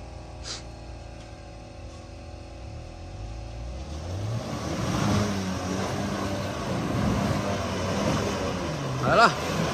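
A Tank 400 SUV off-road in deep mud, its engine droning low and then rising in pitch as it revs hard, building into a broad, churning roar close by.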